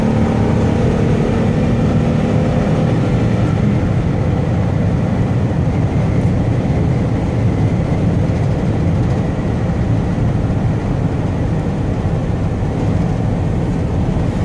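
Steady, loud road and engine roar from inside a 2003 Chevy Venture wheelchair-accessible van as it speeds up on the highway, a continuous broadband rumble that holds throughout with no talking.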